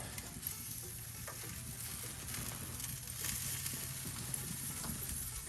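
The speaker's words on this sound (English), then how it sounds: "Got a little sizzle going on." Soft, continuous sizzling of prime rib cooking in an Old Country Pecos smoker, a fine crackle and hiss heard close but fairly quiet, with no voices.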